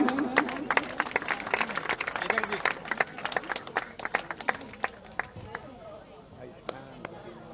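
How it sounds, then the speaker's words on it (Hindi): Scattered, uneven clapping from a crowd at a family honouring ceremony, moderately loud at first then thinning to sparse claps, with voices talking over it. "तालियां एक बार।"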